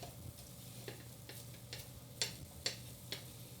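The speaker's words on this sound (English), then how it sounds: "I'm pressing down a little bit just to get that to mix and get rid of some of the lumps" Choux pastry dough for chocolate eclairs is stirred and pressed down in a pan over low heat, giving faint soft scrapes and light ticks at irregular intervals, with no speech.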